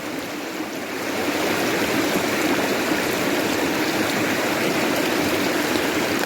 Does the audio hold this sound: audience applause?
no